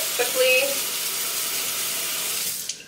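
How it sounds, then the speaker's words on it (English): Tap water runs steadily into a kitchen sink while a whisk is rinsed after baking pumpkin spice muffins, a continuous close splashing rush that ends abruptly near the close. "I'm going to wash off the whisk"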